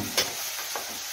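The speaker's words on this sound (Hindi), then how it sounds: "मैगी डाल देते हैं और फिर हम मिक्स कर लेते हैं" Maggi noodles being stirred in a pan, with two soft scraping strokes over a steady low sizzle, close by and fairly quiet.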